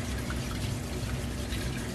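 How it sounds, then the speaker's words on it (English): Tap water runs steadily while rice is washed for curry chicken, a constant close splashing flow with no pauses and no talk. "The tap running automatically."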